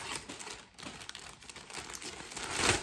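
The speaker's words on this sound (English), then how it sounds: "Now, I'm gonna put them in this plastic bag." Digestive biscuits go into a plastic bag, producing soft, steady crinkling and rustling up close that swells near the end, with no voices.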